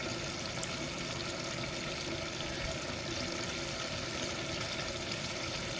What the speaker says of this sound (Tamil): இப்போ ஃபஸ்ட்டு ஒரு பெரிய டம்ளரில் ஒரு டம்ளர் தண்ணி ஊற்றிருக்கேன்